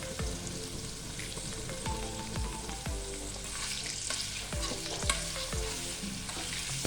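Paneer fries briefly in hot oil with a soft, constant sizzle, punctuated by a regular series of spatula scrapes and taps against the pan.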